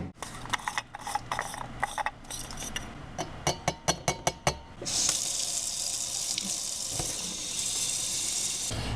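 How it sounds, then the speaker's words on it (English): Warm water poured into a jug to make a sterilizing solution for home winemaking, heard as a steady hiss of running water for the last four seconds, following a series of sharp clicks and knocks. "put warm water in my jug"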